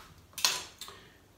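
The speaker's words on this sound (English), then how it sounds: "I just cut out some slices for the banana" A knife slices a banana on a cutting board in a home kitchen, giving two short, crisp close-up cuts about half a second apart, the first louder, over a quiet background.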